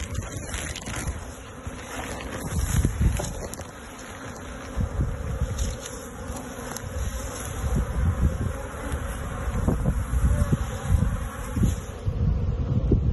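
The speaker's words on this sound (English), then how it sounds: "it's good to be surrounded by this much bee life" Honey bees hum in a dense, continuous buzz around opened beehives during the first hive checks of 2023, steady and close with small swells in loudness.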